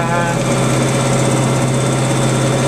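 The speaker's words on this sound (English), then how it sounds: "Dad's a couple of rows ahead of me on the other tractor with the big sweeper" A tractor engine drones steadily and loudly nearby in a macadamia orchard, a constant mechanical rumble with no breaks.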